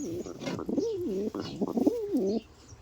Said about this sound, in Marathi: आणि हा आपला कबूतर